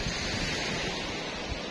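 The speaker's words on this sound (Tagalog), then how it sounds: "nandito tayo sa dagat" Broadband wash of sea waves at a Cayman beach, a steady roar of surf with wind rumble against the microphone, continuous throughout with no voices.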